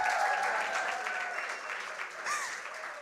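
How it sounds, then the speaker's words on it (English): Applause for an 11-year-old girl named Gabby at a community gathering, a moderate spread of clapping from a modest crowd that stays fairly even and slightly distant. "A round of applause for Gabby."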